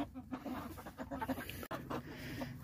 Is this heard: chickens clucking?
yes